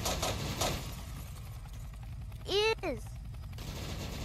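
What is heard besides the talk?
machine gun fire in video game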